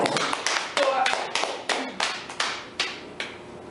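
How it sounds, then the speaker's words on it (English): A small studio group gives a brief round of applause for a guest on an interview set in Vienna, about a dozen distinct claps in an uneven rhythm that fade toward the end, close and moderately loud with faint background voices. "Can we give a round of applause"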